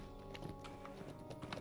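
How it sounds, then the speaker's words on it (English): Shire horse hooves clip-clopping in a steady trotting rhythm in Lord of the Rings Online, faint and low in level under game background sound. "Yeah, come on, horse."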